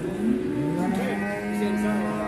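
A cow lows at a livestock market in one long, close, steady moo with a slight bend in pitch, under faint background chatter.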